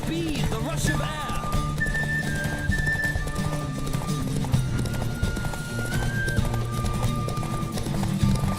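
Rapid hoofbeats from a racing horse in The Witcher 3: Wild Hunt drum continuously beneath musical tones, with a clear whinny near the start.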